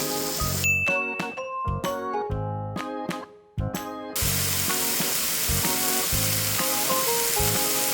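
Butter melts and beef steak sizzles loudly in a frying pan, with a brief run of chiming, ringing clinks near the start before the steady hiss continues alone.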